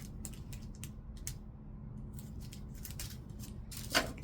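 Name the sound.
scissors cutting ornament pieces apart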